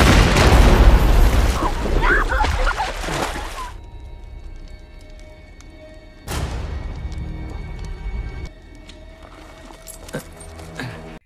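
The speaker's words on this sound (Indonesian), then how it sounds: "Fizz kemudian meledakkan sebuah granat di saat Hansen dan dua orang bawahannya mendekatinya" A grenade blast in an action film, a loud booming burst followed by a sudden cut to quieter scene audio, then a second sharp impact and lingering noise.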